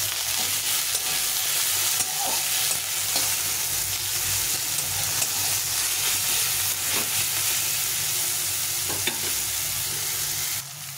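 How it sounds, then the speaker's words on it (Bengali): Tomatoes frying with salt and onion in a pan, a continuous loud sizzle with soft stirring scrapes throughout and no talking. "এই টমেটোটা একটু গলার জন্য লবণ দিয়ে দেবো, দিয়ে আবার একটু ভেজে নেব"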